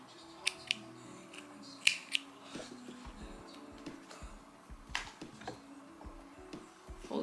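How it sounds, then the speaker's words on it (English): Scissors cut a yarn string at the end of a crocheted bikini cover, with a few quick, faint, crisp snips close by in a quiet room. "I am going to chain 1 and cut a string."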